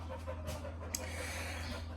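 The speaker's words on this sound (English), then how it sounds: "Oh, no wonder you're panting." Remy the dog pants steadily outdoors after chasing flies, a continuous soft rhythmic breathing close by with a faint background hum and no talking.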